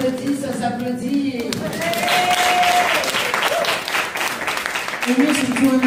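Audience applause swells into a dense, sustained clatter in the middle, with a person talking over it at the start and again near the end.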